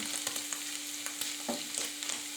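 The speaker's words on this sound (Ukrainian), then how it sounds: "коли вже триває процес обсмаження грибів" Honey mushrooms frying in a pan, a continuous bright sizzle with light scraping stirs and occasional soft taps of a utensil, steady and close, with a faint steady hum underneath and no voices.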